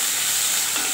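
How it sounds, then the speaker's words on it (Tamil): Onions sauté in hot oil as they are stirred, giving a brief, close, steady hissing sizzle with no voices. "வெங்காயத்தை போட்டு நல்லா வதக்கிக்கலாம்."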